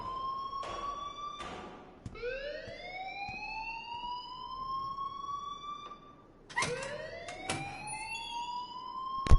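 An electronic alarm in the video game Life is Strange wails in rising, sweeping tones, looping loudly and steadily, restarting twice with a sharp attack.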